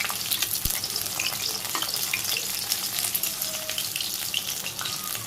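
Water lily (shapla) fritters fry in hot oil with a loud, continuous crackling sizzle and occasional stirring clinks close by.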